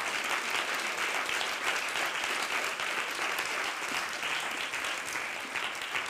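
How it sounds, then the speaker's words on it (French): A seated audience at a literary reading event applauds an author's reading, giving a sustained, even roar of many hands clapping together without pause. "on va vous applaudir à nouveau parce que c'était vraiment magnifique"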